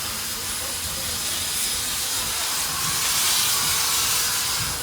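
Steady broadband steam hiss from the Nickel Plate 765 steam locomotive, a continuous near rushing of pressure venting that holds without a break.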